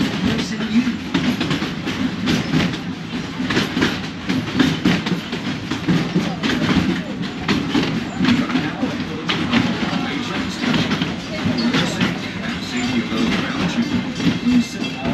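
The Wildlife Express train at Disney's Animal Kingdom, Florida rumbles along with a steady clickety-clack of wheels on rail, loud and close, while a recorded voice announcement plays over it.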